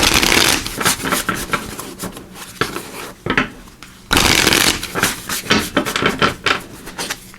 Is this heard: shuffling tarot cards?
yes